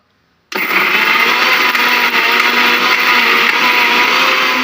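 A mixer grinder whirs loudly as it grinds a moringa leaf chammanthi, starting abruptly after a brief silence and then running as a steady, close, high-pitched motor roar with no talking.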